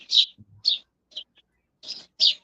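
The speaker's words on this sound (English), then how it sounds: "The birds sound nice today." Birds chirp outdoors in a few short, high, bright bursts separated by brief silences, faint but clear, with no talking over them.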